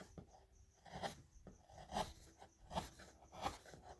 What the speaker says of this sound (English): I'm going to take the gouge, and I'm just going to gouge it again.